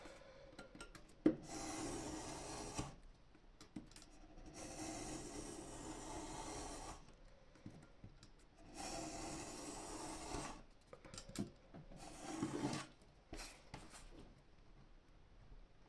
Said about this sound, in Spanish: Vamos a cortarle el lado grande en el que iría la zona del cosido.